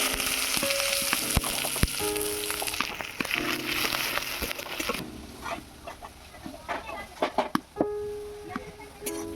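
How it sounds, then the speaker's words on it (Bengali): Chopped onion sizzles loudly in a hot pan for a cauliflower singara filling, a steady broad hiss broken by sharp clinks and scrapes of a utensil against the pan. "তার জন্য প্রথমে দিয়ে দিচ্ছি পেঁয়াজ কুচি।"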